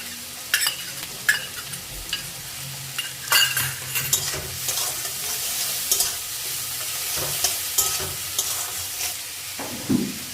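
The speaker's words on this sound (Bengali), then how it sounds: "সঙ্গে অ্যাড করে নেব রসুন আর আদা কুচি একসঙ্গে।" Garlic and chopped ginger frying together in a pan for a chicken stew, a continuous sizzle under frequent metallic stirring scrapes and clatters of a spoon.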